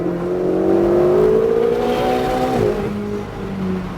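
A Ferrari engine accelerates on a race track, revving steadily upward in a strong, smooth tone, then dropping sharply as if through a gear change before climbing again.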